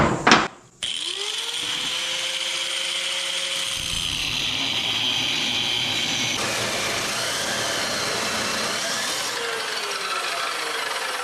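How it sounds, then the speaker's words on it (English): A power tool grinds a groove into the end of a steel pipe on a 1966 Chevy one-ton dually, a loud, steady, harsh roar that starts after a brief spin-up and runs close and unbroken, with no voices. "basically what I'm doing is I'm just cutting a groove down both sides of it"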